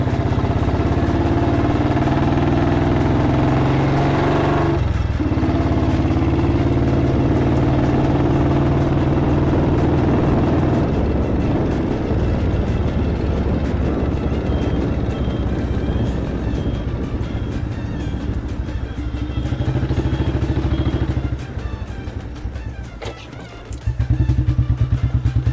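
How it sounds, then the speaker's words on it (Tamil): A restored 1983 motorcycle fitted with a Punjabi exhaust rumbles loud and close, its deep engine note rising and falling through revs for about 25 seconds before a short dip near the end. "நல்லா ரேவ் பண்ணி போலாம் பாருங்க"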